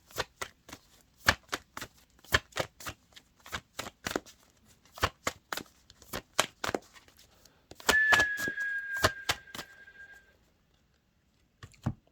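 Tarot cards shuffled by hand for a Scorpio reading, a close sequence of crisp riffling slaps at an uneven rhythm with a brief whirring stretch partway through, with no voices.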